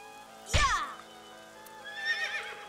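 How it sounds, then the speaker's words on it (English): A merry-go-round horse in the video game AI: The Somnium Files gives a sudden loud whinny after a dull thunk, followed by a softer trailing neigh. "Poor horse. A merry-go-round horse."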